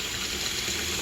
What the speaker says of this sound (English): I'm running water in my sinks that I've just scrubbed down really well.